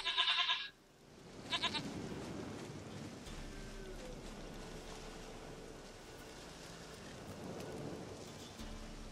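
A goat in the video game The Witcher 3 gives two bleats, a loud wavering one at the start and a shorter one soon after, then low rumbling rain-like ambience fills the rest.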